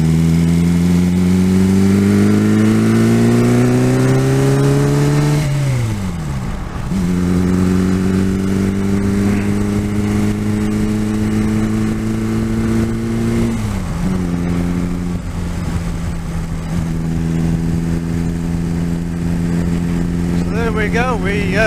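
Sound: Reliant 750 trike engine accelerating on the road

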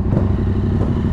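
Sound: Yamaha MT-09 2018 motorcycle engine

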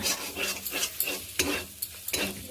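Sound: egg added and stirred in sizzling spiced tadka

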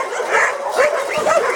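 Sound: dog growling

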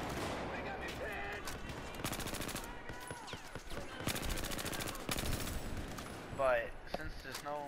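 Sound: gunfire from a gun in the video game Battlefield 4

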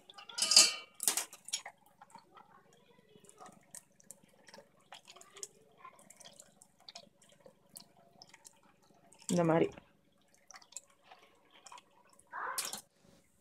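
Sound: rinsing homemade paneer with water

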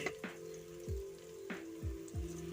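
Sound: sautéing ginger garlic paste in a pan

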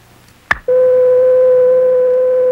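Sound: pure sine tone from frequency generator

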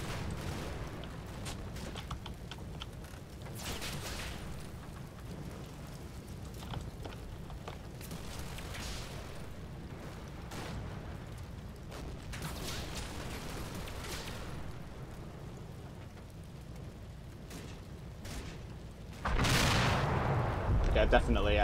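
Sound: gunfire in a video game battle

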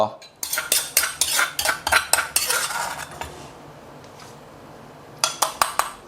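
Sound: pounding dried chilies in a mortar

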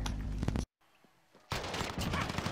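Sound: decoy grenade faking gunfire in video game Call of Duty Warzone

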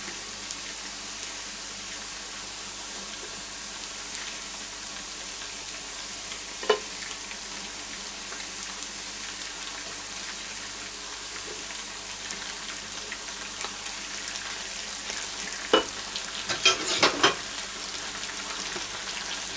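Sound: keş cheese being sautéed and stirred in oil

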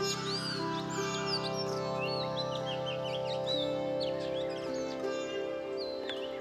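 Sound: greater flameback woodpecker in the forest

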